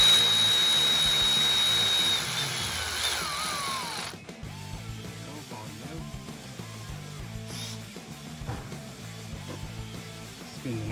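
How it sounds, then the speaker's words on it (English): Battery ratchet spinning a 15 mm 12-point nut down onto an ARP head stud on a 6.7 Cummins engine, a loud whirring tool burst for about four seconds before dropping to quieter shop noise. "Take battery ratchet."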